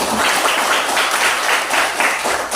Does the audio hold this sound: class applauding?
yes